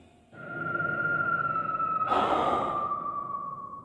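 A slow, heavy breath rises out of silence and swells into a loud, rushing exhale about halfway through, set over a low eerie drone as a horror story sound effect; it fades at the end.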